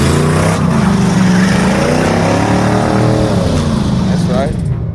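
A 1982 Chevrolet El Camino on 22-inch wheels with its engine running steadily, a loud continuous low rumble with slight pitch shifts, and talk over it.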